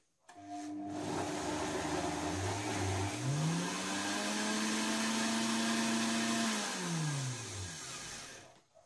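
A kitchen blender purées cooked chickpeas for homemade hummus, the motor whirring steadily and loudly for several seconds, its pitch rising and settling as it spins up, then winding down at the end with no talking.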